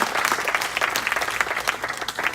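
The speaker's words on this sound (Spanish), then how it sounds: "Y ahora denles aplauso a Jesús" A church congregation bursts into steady, dense applause, many hands clapping together loudly and continuously with no break.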